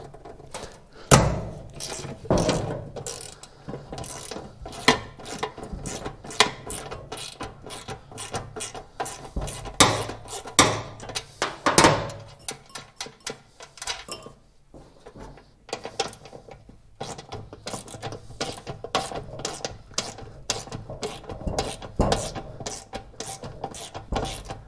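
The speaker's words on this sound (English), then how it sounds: "Probably could have used the breaker bar or a 3/8 inch ratchet on these" A ratchet wrench works stuck bolts on a two-stage snowblower's skid shoes, giving rapid repeated clicking bursts in close, uneven runs with brief pauses.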